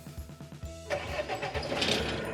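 A wood chipper's engine cranks with a few rapid chugs after its glow plugs are primed, then catches and settles into a steady mid-pitched running note, heard close and fairly quiet.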